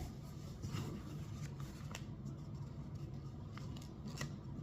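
Scissors snipping paper while an envelope is folded from patterned paper for a traditional hanbok-style holiday envelope, a few soft, close cuts over a steady low background hiss.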